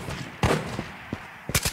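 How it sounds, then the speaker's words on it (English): Gunfire in the game Ghosts of Tabor: several sharp shots and short bursts crack at uneven intervals, one early and a quick cluster near the end, fairly close and loud over a low background. "Someone else is shooting at us."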